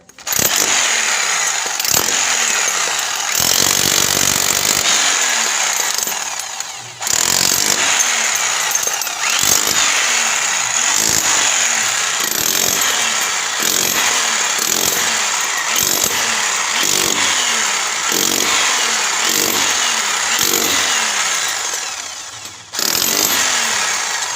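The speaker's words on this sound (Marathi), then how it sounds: "आता वरतून होल मारू होल मारून पाईप बसाय" A power drill or hammer tool bores holes through a ceiling to fit a pipe, giving a loud, close, harsh buzz in repeated bursts about a second apart, with a few short pauses.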